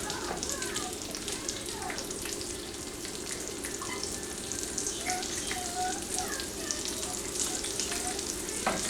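Bacon fries in a pan at home, a continuous dense sizzle and crackle throughout, with faint background kitchen sounds and no clear talking.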